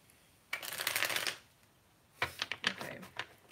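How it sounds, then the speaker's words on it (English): Tarot cards are shuffled up close in two bursts: a long riffling rush, a short pause, then a series of quicker flicking riffles. "let me shuffle them a little bit more"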